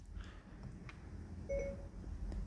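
A short, clean electronic beep from the voice command button of a Fiat Egea Cross infotainment system sounds once midway, over a low cabin rumble and faint clicks.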